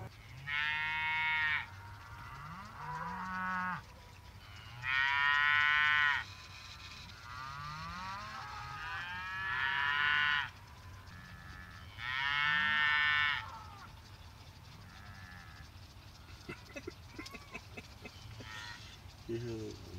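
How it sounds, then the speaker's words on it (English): Several cows moo repeatedly at fairly close range in long, drawn-out calls spaced a few seconds apart, with quieter sounds in between during a total solar eclipse. "And I hate those cows."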